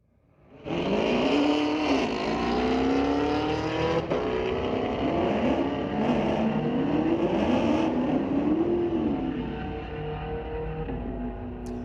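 Street-legal drag cars, a Ford and a Camaro, launch at Mission Raceway Park. Engines roar in suddenly and loudly and hold a sustained, rising and falling rev as they pull away down the strip.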